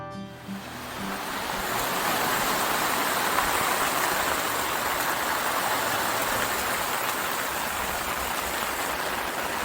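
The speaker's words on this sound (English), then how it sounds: "Nice little rain today." Steady rain falls at a lakeside campsite beside a camper, a dense, even hiss that swells within the first two seconds and then holds loud and unbroken.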